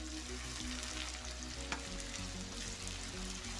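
Onion frying with ginger-garlic paste and tomato in a pan while making kaleji sizzles steadily and close, with a few stirring scrapes and no talk.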